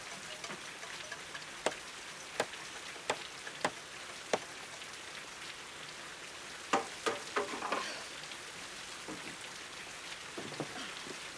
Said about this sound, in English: It's raining on top of the roof.